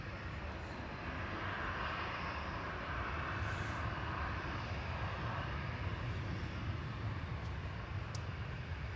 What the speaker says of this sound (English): Indigo Flight 31 coming in from Mumbai, 787-9